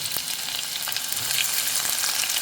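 Onion drops into a hot pan of browned garlic and coriander for a Konkani-style prawn and potato curry, giving a steady, close, broadband sizzle with a few sharp crackles and no voices.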